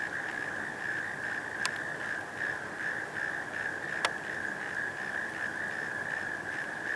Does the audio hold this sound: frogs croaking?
yes